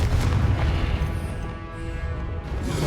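Loud, rumbling explosive blasts from the Confringo spell in the Hogwarts Legacy video game, heavy booming bursts back to back with no pause.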